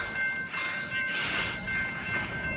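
Amtrak Capitol Corridor train #538 to Sacramento and Auburn passes by at Dixon, California, with its cab car leading. A loud rushing rumble swells and fades as the cars roll past, and a faint whistle tone sits over it.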